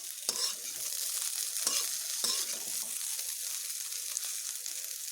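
Chopped figs fry in oil in a pan, a steady bright sizzle with a few soft knocks as they are stirred, quiet and close with no talking.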